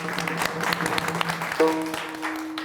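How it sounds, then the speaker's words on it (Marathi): An audience claps together at a Marathi devotional kirtan gathering, a dense, steady patter of many hands, with a sustained musical tone joining partway through. "सगळ्यांनी एकदा टाळ्या वाजवायच्या"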